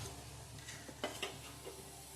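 Gujarati patra fry in a pan of oil with a faint steady sizzle, marked by a few light clinks and scrapes of a utensil stirring close by.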